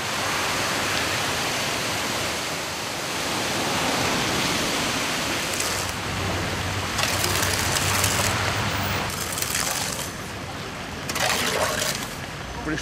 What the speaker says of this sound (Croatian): U vrlo kratko vrijeme obilna kiša potopila je Opatijsku Slatinu.